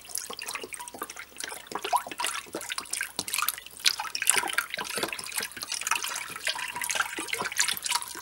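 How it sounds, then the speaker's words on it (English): Beef broth is poured steadily into a pot, a continuous splashing gurgle with small drips, close by and moderately loud. "Now you want to add your beef broth to the concoction. Just pour all of it in there."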